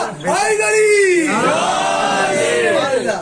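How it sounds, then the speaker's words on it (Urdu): A crowd at a Muharram majlis for Imam Hussain loudly chants the Nara-e-Haidari religious slogan in unison, a long swelling roar of many voices that fills the room. "ابھی لوگوں نے کہا آپ نے سنا میں نے بھی سنا لوگ نعرہ لگاتے علی اللہ علی اللہ"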